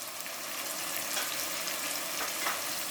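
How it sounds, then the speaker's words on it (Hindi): Boiled spinach frying with spices in a pan for aloo palak, giving a steady, close sizzle with stirring scrapes that continue throughout, with no talking. "और इसको हम अच्छी तरह से पहले भून लेंगे पालक को मसाले के साथ।"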